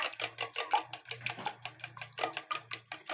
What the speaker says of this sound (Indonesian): Kita aduk supaya dia mengembang.